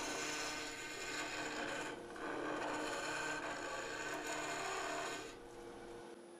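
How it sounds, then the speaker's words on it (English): A round carbide cutter smooths the inside of a segmented wooden Christmas tree bell, producing a steady, close-up rasping grind of cutter on wood that runs nearly the whole time and eases off slightly near the end. "First, smooth out the inside of the bell with the round carbide cutter."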